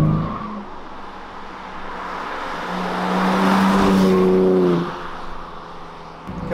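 A 2021 BMW M3 Competition is driven hard through a hard left corner, its engine note rising and swelling loud mid-turn before easing off, with steady cabin rumble and a faint tyre squeal.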